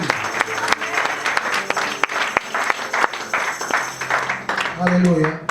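A church congregation at a French-language evangelistic service applauding and cheering for Jesus, steady loud clapping from a large crowd throughout, with voices shouting over it and a low sung or called tone near the end.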